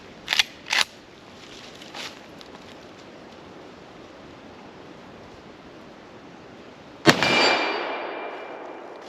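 A Winchester Model 94 lever-action rifle in .30-30 with a steel butt plate fires one loud shot on an outdoor range. The sharp crack rings out late, trailing a long decaying echo, after a couple of faint clicks over steady wind noise.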